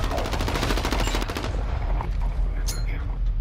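Rapid automatic gunfire in a shooter video game, loud bursts crackling densely through the first second and a half, then thinning into scattered shots and ambient game noise.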